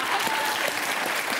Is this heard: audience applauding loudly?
yes